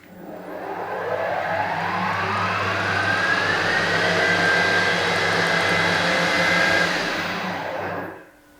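Harrison HS170 universal milling machine running at 1500 rpm, a steady mechanical whir with a tone that climbs as the spindle spins up. It holds at a constant hum and then winds down at the end, with no talking.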